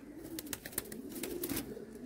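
Pigeons, some of them color-dyed, at a pigeon sale coo in a soft, continuous low murmur, with a few brief sharper sounds from the flock on top.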